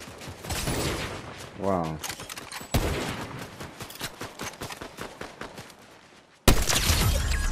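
Enemy bots in Fortnite fire bursts of gunfire, loud rapid cracks at the start and end with fainter scattered shots in between, while players talk briefly over them.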